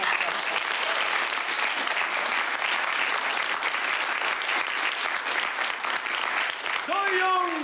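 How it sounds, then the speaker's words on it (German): An audience applauds a young man volunteering at a knife-throwing act, dense sustained clapping filling the whole stretch, with a voice speaking over it near the end. "Applaus für den jungen Mann, meine Damen."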